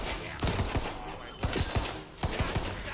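A plain, non-fantasy gun fired in the fantasy shooter Tiny Tina's Wonderlands against skeletons: three bursts of several sharp, punchy shots each, spaced about a second apart, fairly close and distinct.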